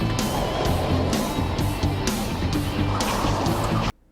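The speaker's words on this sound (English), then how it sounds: "We have a brief car action scene intermission." A brief car action scene from a Goosebumps episode: loud, busy engine roar with whooshes and rhythmic impacts that cut off abruptly at the end.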